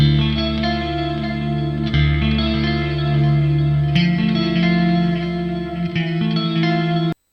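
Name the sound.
guitar with dotted delay effect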